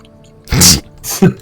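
A single loud, close sneeze with a sharp intake and burst, followed by a smaller second sneezy exhale, heard alone without talk.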